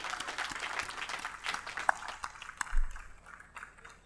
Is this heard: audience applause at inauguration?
yes